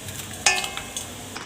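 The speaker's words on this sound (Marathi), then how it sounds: "मी इथे प्रेस करून घेते उलटणीने असं केलं म्हणजे मधली सगळी स्टीम बाहेर निघते" A spatula clanks against a pan as rava dough is pressed down to release steam, over a soft steady sizzle, with a few lighter scrapes afterward.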